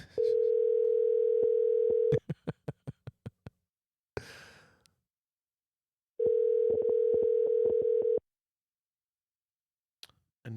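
A telephone call rings out as steady tone bursts separated by a pause, with clicks and brief noises in between, before going quiet.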